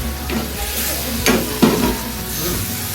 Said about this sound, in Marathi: मस्तपैकी मसाला तर चांगला भाजलेला आहे हे बघा ओके आता चाललेली आहे कोळंबी